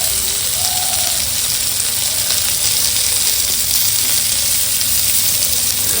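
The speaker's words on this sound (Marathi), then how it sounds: "आता बोंबील फ्राय करते" Bombay duck (bombil) fish fries in hot oil, a loud, dense, unbroken sizzle that fills the whole stretch with no talk.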